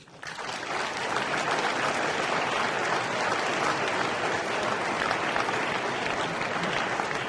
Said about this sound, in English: please give everyone standing up a big round of applause for your language heroes